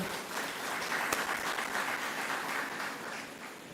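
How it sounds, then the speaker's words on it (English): A room applauds a parliamentary colleague at a Divali dinner and cultural event in Mayaro, a steady wash of clapping heard from a distance and fairly soft, with one sharper clap standing out early. "Please give him a round of applause"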